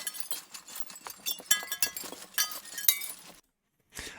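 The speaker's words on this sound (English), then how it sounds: "I'm going to use this sample of breaking glass for it." Sampled glass breaking into debris: a dense cascade of bright clinks and tinkling shards over about three seconds, then a sudden stop and a short fresh burst of glassy rattle, close and clear, no voices.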